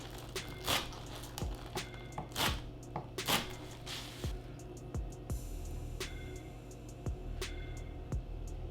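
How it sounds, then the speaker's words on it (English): A knife chops green onion tops on a cutting board, each sharp thud coming at an irregular, unhurried pace, close and clear with no talking. "I'm going to cut up the top of some green onion and I'm going to sprinkle that across the top"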